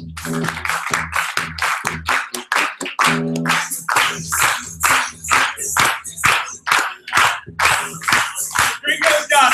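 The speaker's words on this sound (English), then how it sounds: "Clap your hands on me." A crowd clapping hands in unison, loud, rhythmic claps in steady repeated bursts with short pauses, accompanied by background voices.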